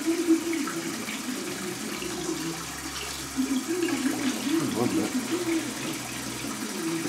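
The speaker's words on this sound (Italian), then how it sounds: "adesso devo aprire l'acqua calda e fargli fare una bella immersione nell'acqua calda" Hot water runs steadily from a tap to soak a shaving brush, a continuous low splashing rush at moderate level, with a person talking over it.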